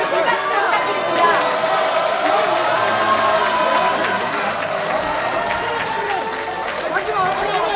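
A crowd at a political party launch event applauds, a thick wash of clapping and murmuring voices that stays fairly even throughout, with chatter mixed in.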